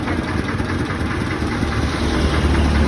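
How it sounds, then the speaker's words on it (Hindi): Steady roadside traffic rumble of cars and other vehicles, engines droning as they move past nearby, continuous and fairly loud with no talking. "मेरे पीछे व्हीकल्स भी आ रहे हैं काफ़ी"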